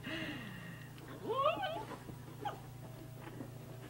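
Hunting dogs whimper and whine nearby with a few soft scuffles, high plaintive cries rising and falling over a low steady indoor hum.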